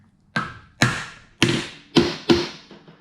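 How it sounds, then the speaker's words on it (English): A knocker taps a machined plastic bush onto the alternator cover case of a Ducati Monster 659 engine, with five sharp, evenly spaced knocks close up, each ringing briefly before the next. "It knocks in until the plastic edge sits on the case."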